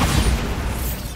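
A Bombarda blasting spell goes off in Hogwarts Legacy: one loud, close explosive boom with a heavy low rumble that carries on for about a second.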